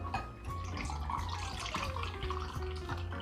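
Vanilla vodka chai cocktail poured from a shaker into a glass, giving a steady splashing liquid stream for a few seconds under a low background hum.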